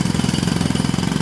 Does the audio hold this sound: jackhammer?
yes